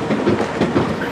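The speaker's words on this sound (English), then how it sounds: "See how these trains were built for these streets, so they turn really tight." A sightseeing tour train rumbles through a tight turn on city streets in St. Augustine, Florida, its wheels clicking and clacking in a steady rhythm close by, with no talk.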